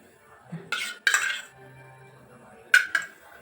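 A spoon clinks against a bowl of ground ripe papaya paste in a few sharp, close metallic taps and scrapes, separated by quiet pauses.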